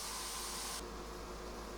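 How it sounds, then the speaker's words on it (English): Meat frying in a pan gives a steady, close broadband sizzle and hiss. It runs without a break and turns slightly softer partway through, with no talk over it. "Now while that's frying, I think I'm going to add the spices to the meat frying."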